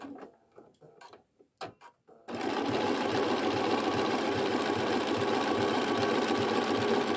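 A sewing machine runs a straight stitch around a curved applique shape, starting after a few seconds of quiet handling and then whirring steadily and close with a fast, even mechanical rhythm.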